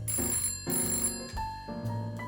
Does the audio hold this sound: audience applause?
no